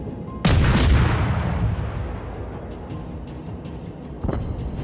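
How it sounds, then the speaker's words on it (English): Naval gunfire in World of Warships: a loud, near boom of ship guns firing opens into a long rumbling decay, followed by a second sharper blast of shells landing near the end. "The third shell hitting up on his superstructure and probably starting a fire there."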